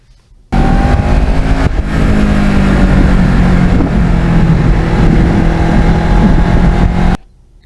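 A car engine pulls hard through the gears on an open road, loud and continuous for about seven seconds, its pitch climbing and dropping with each shift, with no voices.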